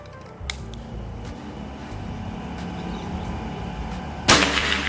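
Two sharp, sudden shots from a PCP air rifle, a Predator OD 38, a quick crack near the start and a louder one near the end, with quiet ambience between.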